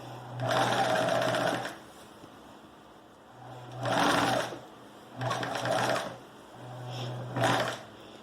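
Sewing machine stitching a zipper, four separate bursts of fast mechanical whirring with short quiet pauses between them, close and moderately loud.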